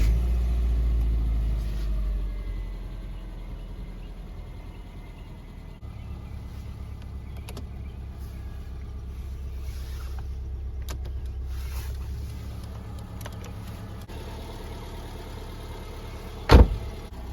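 2005 Subaru Forester X engine cranks over and catches, then settles into a low, steady idle heard from close by, with a few faint clicks and one sharp knock near the end.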